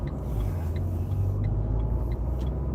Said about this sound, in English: That's a ridiculous amount of traffic.